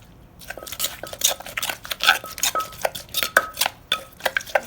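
Shrimp being tossed with fermented fish sauce in a bowl for a Thai dish, giving a close, busy run of wet clinks, scrapes and light knocks of utensil against the dish, with no talking.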